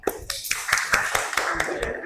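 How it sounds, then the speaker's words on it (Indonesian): Classroom students clap for group B after its discussion presentation, a short burst of quick, uneven hand claps close by and fairly loud, with no talk over it. "tepuk tangan buat kelompok B"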